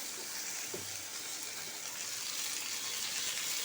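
Fresh coriander and curry leaves sautéing in a pan, a steady soft sizzle and hiss that holds evenly at low level throughout, with no voices.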